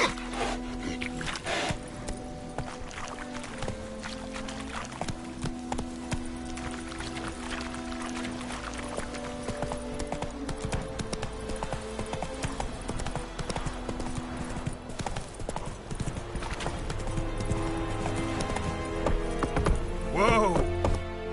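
Roach the horse from The Witcher 3 trotting, a steady clip-clop of hooves running throughout with a rhythmic beat, mixed with game ambience.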